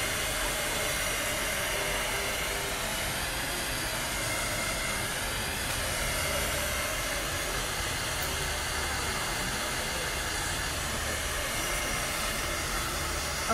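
A hair dryer drying paint blows steadily and loudly for the whole stretch, a constant broadband whoosh with a low motor hum and no talking.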